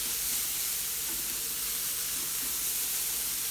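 Mushrooms and shallots fry in a hot pan with a steady, even sizzle and soft hiss, constant and close throughout, with no voices.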